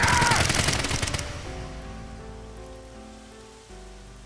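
Burst of rapid gunfire in a video game, loud and crackling for about a second, then cutting off into a low musical drone.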